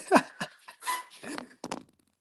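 A dog eager for a bowl of bacon, salmon and broccoli, giving close, excited whimpers, yips and short barks in a quick uneven series.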